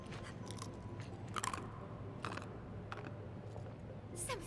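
In Final Fantasy 7 Remake a character chews beans, giving a few faint, crisp crunching bites scattered over a quiet background.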